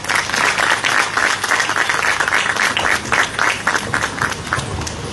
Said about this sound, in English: So with your round of applause